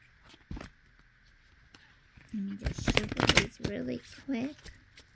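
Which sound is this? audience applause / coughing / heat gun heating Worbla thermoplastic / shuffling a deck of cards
shuffling a deck of cards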